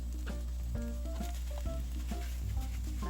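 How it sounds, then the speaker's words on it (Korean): Garlic scapes sizzle in a hot pan, a steady crackling fry with occasional clinks and stirring sounds, close up and without talk. "지글지글 맛있게 볶아지고 있는 소리가 들리시나요?"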